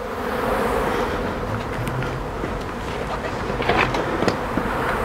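Honeybees buzzing around a hive during beekeeping work, a continuous dense humming swarm close by with occasional louder passes of individual bees, no talking.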